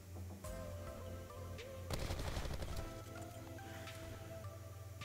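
Bursts of VAPR-XKG automatic rifle fire in Black Ops 4 rattle out in a dense volley over in-game music, fairly faint overall and without talk.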